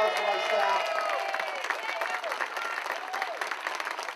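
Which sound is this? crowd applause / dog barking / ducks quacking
crowd applause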